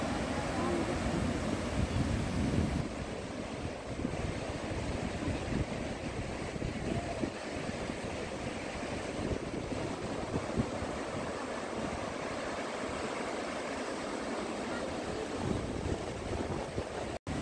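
Steady roaring rush of Shivanasamudra Falls near Bangalore, heard from the top viewpoint, loud and continuous throughout, with some wind buffeting the microphone.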